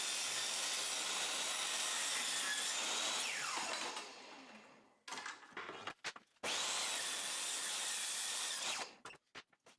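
A table saw rips pallet wood planks: a sustained whining cut for about four seconds that tapers off, short bursts of spinning blade, then another long cut ending in brief spurts, loud and close.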